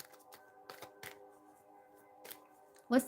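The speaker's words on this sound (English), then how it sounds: "Surprised they don't have like an ASMR channel where it's just people shuffling cards." Tarot cards being shuffled and handled at a live reading, soft riffles and light slaps recurring close by over a faint steady hum, ending in a brief louder rustle.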